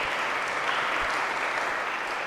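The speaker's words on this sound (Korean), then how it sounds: "박수로 맞아주시기 바랍니다." A church congregation applauds to welcome a guest at a Sunday worship service, a steady, dense round of clapping that fills the room and holds evenly throughout.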